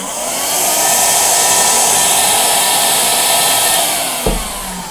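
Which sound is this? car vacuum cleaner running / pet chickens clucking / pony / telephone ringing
car vacuum cleaner running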